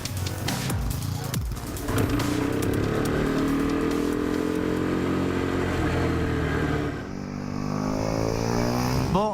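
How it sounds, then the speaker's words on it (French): A powerful, lightweight motorcycle rides hard around a race track, its loud engine note climbing and falling steadily through gear changes, close and sustained throughout. "c'est quand même une moto relativement puissante par rapport au poids"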